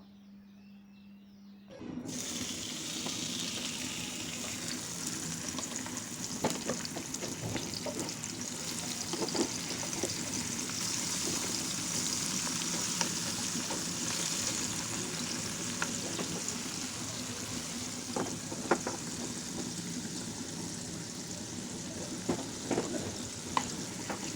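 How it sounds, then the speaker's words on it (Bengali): Pabda fish frying in masala in a pan over medium heat, a steady close sizzle and crackle that starts abruptly and runs on with occasional sharper pops and stirring scrapes. "এখন মিডিয়াম হিটে আমি মাছগুলোকে সুন্দর করে ভেজে নিব।"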